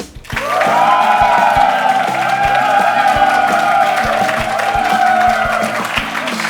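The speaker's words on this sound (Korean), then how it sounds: "자, 두 분 교수님 큰 박수로 모시겠습니다" A studio audience at a KAIST lecture-battle broadcast applauds and cheers to welcome two professors, a loud burst of clapping that starts abruptly and holds steady under bright music with a booming beat.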